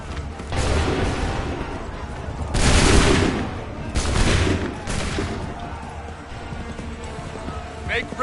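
Musket volleys in the game Assassin's Creed 3, bursts of massed gunfire roaring out in several loud waves, each followed by rumbling decay, with battlefield commands shouted between them.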